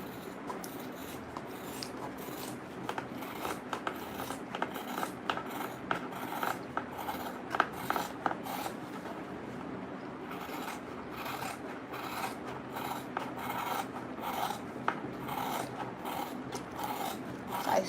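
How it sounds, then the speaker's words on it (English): Blunt scissors chew through Ankara print fabric for bag pieces, giving a continuous rasping, crunching cut with repeated close strokes over eighteen seconds, without speech. "my scissors is blunt, so if you use a better and a sharper scissors, it will be very easy for you to cut."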